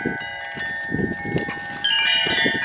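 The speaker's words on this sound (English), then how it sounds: "Listen to the wind chime." Wind chime ringing outdoors in a grassy field, sustained metallic tones shimmering throughout with a brighter cluster of strikes near the end, faint rustling underneath.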